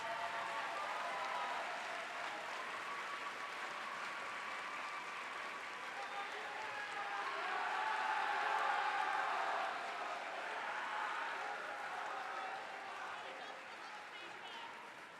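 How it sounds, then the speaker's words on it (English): Sustained, thunderous crowd applause for award nominees at a regional robotics competition event, a thick, continuous wash of clapping that swells slightly midway and holds for over fifteen seconds in a large hall. "applause"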